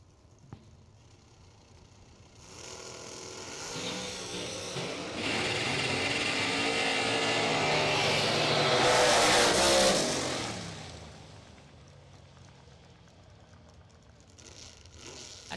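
Bracket racing cars at a drag strip roar past at a distance, engine noise swelling from faint to a loud sustained drone and then fading away.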